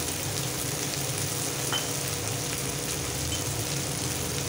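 Chopped onions frying in hot oil with turmeric and salt while preparing a spicy boal fish curry, a steady close sizzle with a faint stir partway through and no talking.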